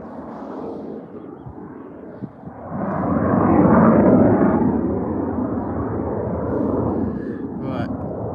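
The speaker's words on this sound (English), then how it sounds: "Is he going to land, or is he going to miss the runway and do a go around?" An airplane with its gear down on approach to a runway, a broad engine roar that swells loudly midway then eases slightly, heard from a distance by plane spotters outdoors.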